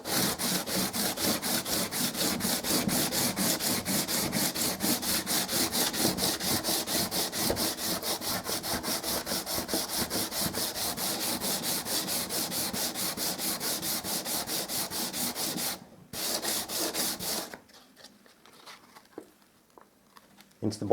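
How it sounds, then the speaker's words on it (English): Steady rhythmic rubbing of a slightly wet sanding block over painted wood on a window sill, continuous and close, pausing briefly near the end before a few quieter strokes. "with one of your cloths just slightly wet that in and start to rub at it"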